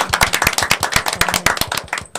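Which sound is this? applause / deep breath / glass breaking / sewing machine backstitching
applause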